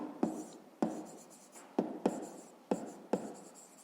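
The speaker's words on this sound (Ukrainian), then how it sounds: "пишемо в комірку" A pen writing digits into a notebook cell during a fifth-grade math exercise, heard as about seven quiet, close scratchy strokes in an uneven rhythm, each starting with a soft tap.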